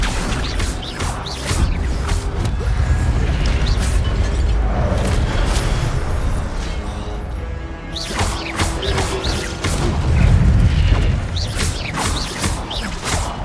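Spell effects from the Hogwarts Legacy video game fill the mix with continuous loud booms, crashing impacts and swooshes, with heavier bursts around the middle and near the end.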